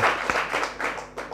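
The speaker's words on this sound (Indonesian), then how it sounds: "Baru kali ini saya mendapatkan tepuk tangan" Audience applause at a closing ceremony for a Ramadan study program at an Islamic boarding school, a short burst of loud, near clapping with distinct individual claps that tapers unevenly.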